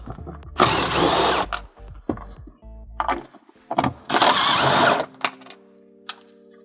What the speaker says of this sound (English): Then there's four nuts to remove.